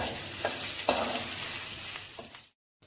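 Onions and curry leaves sauté in a hot pan, a close, even sizzle with a few soft stirring knocks before it cuts off abruptly near the end.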